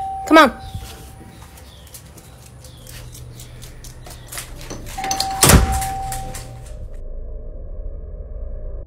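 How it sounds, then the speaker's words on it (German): A doorbell rings twice, a short chime near the start and a louder tone around the middle, over a quiet, faintly rustling room. "wenn keiner an der Tür gewesen ist, dann wer betätigte die Klingel?"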